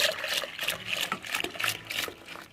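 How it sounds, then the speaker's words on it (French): Milk pours into vanilla pudding mix in a saucepan, a faint close liquid splashing and trickling in short uneven bursts. "Et on ajoute tout le reste du lait."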